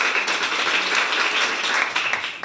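A classroom audience claps loudly and continuously, a dense, steady wash of hand claps with no pauses throughout.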